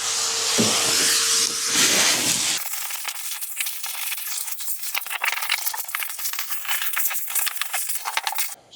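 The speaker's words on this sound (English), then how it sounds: "Just on the final bit now of the hoovering, making sure got any tools, nails, screws, etc. all out of the van." A vacuum cleaner hoovers the floor of a campervan under conversion, picking up loose screws and nails. Loud broadband suction roars steadily for a few seconds, then gives way to a rattling, scratchy stretch of debris being sucked up.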